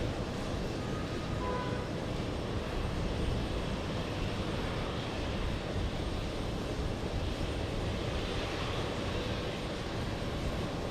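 A British Airways Boeing 777 arriving from Gatwick at JFK, a steady broadband jet roar held at an even, moderate level throughout, with no voices over it.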